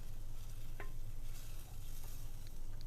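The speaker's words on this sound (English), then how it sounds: "Just make use of these tomatoes because they're nice and fresh." Fresh tomatoes sautéing with onions and garlic in a pan for vegetarian Greek gemista, giving a steady close sizzle with a low bubbling hum and an occasional soft stir or tap, no voices.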